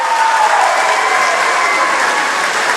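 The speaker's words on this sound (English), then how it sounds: "Y'all give these folks a round of applause." Dense, steady applause from a large audience at a state FFA convention session, loud and continuous throughout with no talk over it.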